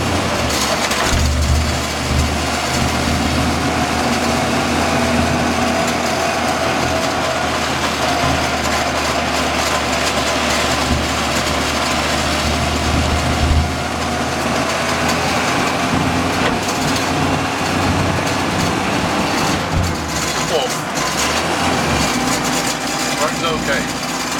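A 1963 Land Rover Series 2a engine drones steadily in third gear on paved road, loud and continuous with road and wind noise, while a voice speaks over it at times.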